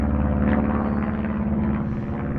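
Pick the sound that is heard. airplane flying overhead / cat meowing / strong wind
airplane flying overhead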